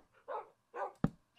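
A Minecraft dog gives a few quiet yips followed by one short, sharp bark, each sound brief and isolated with silence between, and no talk.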